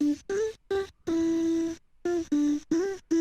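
A sung vocal melody with harsh auto-tune pitch correction and OTT compression: hard-tuned, stepped pitch and clean silences between phrases, sounding dense and squashed, with a brighter, processed edge.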